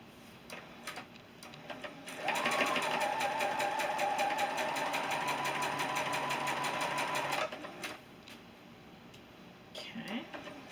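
A sewing machine runs steadily for about five seconds, stitching a seam on a beginner's nine patch sampler quilt block. A rapid, even mechanical whirr sits close by, with soft handling noises before and after.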